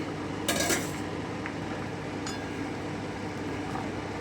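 Metal lid lifted off a simmering pot of winter melon morobba, a brief clattering clink of metal near the start, then quieter faint knocks over a soft steady background hum.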